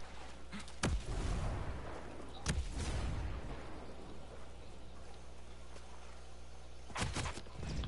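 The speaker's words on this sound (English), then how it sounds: "Get down, grenade." Several loud, booming blasts in an online PS4 shooter, the biggest near the start and another near the end, over a steady rumbling battlefield ambience with no speech.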